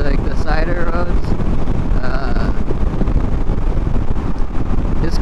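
Loud, steady wind roar buffets the microphone while riding a Honda Rebel 500 motorcycle on a freeway, a continuous broadband rush with no pauses and a faint voice partly buried underneath.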